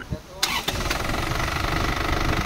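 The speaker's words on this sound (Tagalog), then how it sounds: "Okay, engine start." An Isuzu Sportivo with a 4JA1 turbo engine, troubled by heavy black smoke and delayed acceleration, cranks briefly, then catches and settles into a close, steady, rumbling idle.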